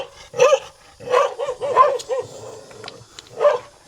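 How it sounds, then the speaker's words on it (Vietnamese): A fierce dog on a remote mountain homestead barks in several sharp bursts, a few loud woofs spaced irregularly with brief whimpering yips between them, fairly close and with no speech over them. "chó này dữ ấy quý vị."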